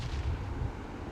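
A bomb detonates in the mobile battle royale game Battlegrounds Mobile India, heard as a low rumbling boom with a muffled, rolling tail, moderately quiet and sustained rather than sharp.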